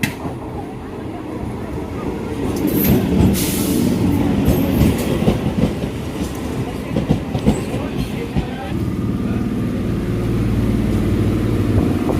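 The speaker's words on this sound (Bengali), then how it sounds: "তো দেখতে পাচ্ছ ট্রেনটা কিন্তু ঢুকছে।" A train rumbles into a station with a steady mechanical roar and rhythmic wheel clatter, brakes faintly squealing as it slows and the noise settles into a low hum.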